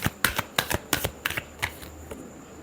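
Tarot cards are shuffled close up, a quick series of crisp papery riffling snaps in irregular bursts that thin out toward the end.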